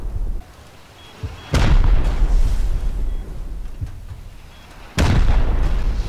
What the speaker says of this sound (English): Right now you're listening to four rocketers from one of the best clans in the server pummeling our base